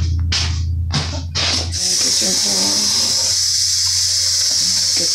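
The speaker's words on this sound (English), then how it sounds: "Turn the water on." Water gushes steadily from a tap, preceded by a few short bursts of spray, with a person speaking over the flow.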